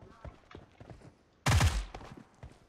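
Gunfire in the battle-royale game PUBG Mobile: a single loud, sharp burst of shots erupts suddenly mid-clip and quickly fades, after a stretch of quiet background noise.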